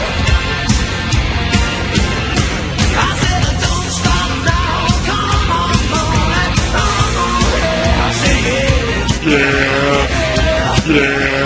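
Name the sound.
goat bleating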